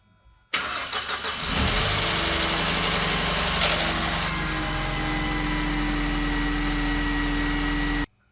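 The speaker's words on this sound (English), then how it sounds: "now I am ready to start the engine" A Mercedes M271 four-cylinder engine cranks and catches after cam chain work, rattling briefly before settling into a steady, close idle that runs evenly until it cuts off.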